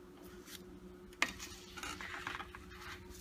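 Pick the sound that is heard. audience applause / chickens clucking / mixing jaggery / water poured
mixing jaggery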